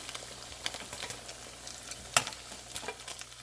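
Paneer for paneer 65 sizzles and crackles in hot oil, with scattered pops and spatters over a soft bubbling hiss; no voices.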